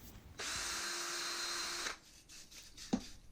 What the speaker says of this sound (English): I can start cleaning out the valve body with my wire brush on the drill.